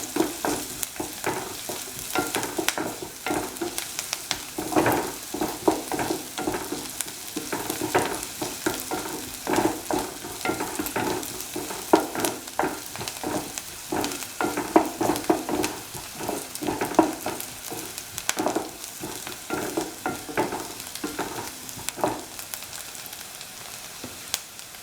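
Egg sautéing in a pan for a scrambled egg chipotle toast sandwich, a steady close sizzle with repeated scraping stirs at a fairly even rhythm throughout, no voices.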